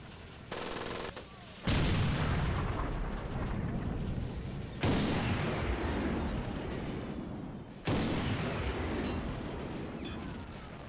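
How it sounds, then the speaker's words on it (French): Howitzer artillery firing in the World War II video game Medal of Honor, Pacific battle at Guadalcanal: three loud booming blasts, each followed by a long rumbling decay, spaced a few seconds apart with no talk. "C'est un obusier, c'est pas un canon tuchard en fait."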